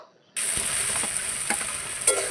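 Pabda fish head frying in a pan with spice paste, salt, chilli and turmeric powder, a loud steady sizzle that bursts in suddenly, with occasional stirring scrapes and spatters.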